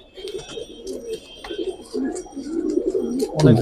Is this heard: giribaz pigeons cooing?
yes